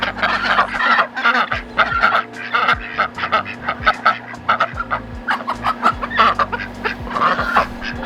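Loud, busy chorus of ducks quacking and honking close by, overlapping calls in rapid bursts with a steady low hum underneath.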